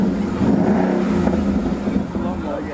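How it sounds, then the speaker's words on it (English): A supercar's engine starts up and is given a short rev, a close, throaty rumble that holds steady beneath people talking. "Foot on the brake, start it up. Give a little rev."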